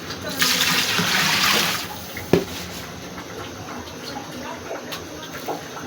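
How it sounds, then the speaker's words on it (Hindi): Water is poured into a large pot of browned chicken before about five kilos of rice go in. It makes a steady, rushing splash for over a second, then a single knock follows as quieter kitchen sounds continue. "अब इसमें पानी शामिल करूँगी।"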